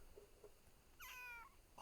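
A kitten meows once, close and clear, with a rising then falling cry, over faint room background and soft handling noise.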